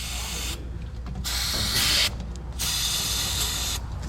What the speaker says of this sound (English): I will penetrate it with penetrating lubricant.